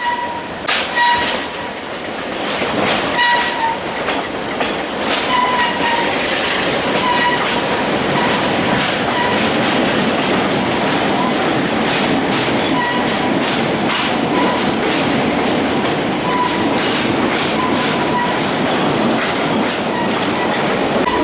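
A train rolls along the rails of the Mohawk, Adirondack and Northern line out of Utica, New York. There is a steady loud rumble with repeated clicks and faint squeals from the wheels, and no one speaks.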